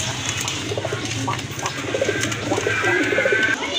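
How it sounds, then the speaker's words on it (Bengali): Pigeons coo repeatedly and close by, a pair of mixed-breed fancy pigeons kept for sale, their soft rolling calls layered over steady background bustle with no talk. "এখানে কিন্তু আরেক জোড়া কবুতর আছে"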